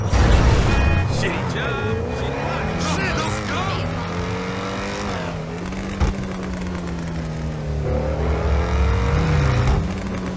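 Modded car in GTA 5 fitted with a turbocharged Honda engine, revving and droning loudly with rising and falling pitch and faint turbo whistle, running continuously under people talking.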